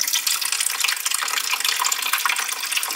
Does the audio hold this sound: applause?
no